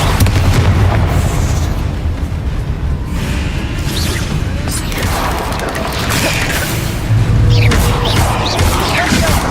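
Bombardo explosion spell in the video game Hogwarts Legacy, deep booming blasts over dense continuous combat noise, loud throughout with surges near the start and again late on.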